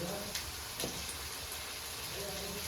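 Cauliflower stalks frying with masala in a hot pan, a steady close sizzle with crackling and occasional stirring scrapes throughout.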